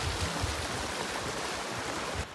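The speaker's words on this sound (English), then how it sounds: "River Crossin." Water of a stream rushes steadily along a Pacific Crest Trail river crossing, a loud, close, broadband flow without pause, with a slight drop in level at the very end.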